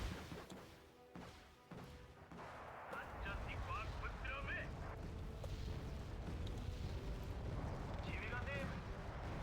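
Artillery fire in the real-time strategy game Wargame: Red Dragon, with distant booming shots followed by a sustained rumble of battle and scattered gunfire, while someone talks over it.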